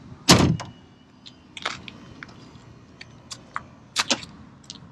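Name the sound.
1990 Buick Riviera power door locks engaging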